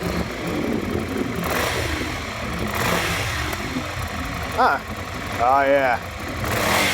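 A 2019 Ducati Scrambler motorcycle engine fires up and revs, giving a rough, throaty rumble that swells and dips across several seconds. Someone speaks briefly over the engine.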